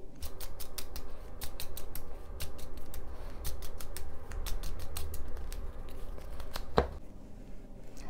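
A tarot card deck is cut and handled close by, giving a run of crisp, rapid card clicks and flicks over soft rustling, with one sharper snap near the end and no voices.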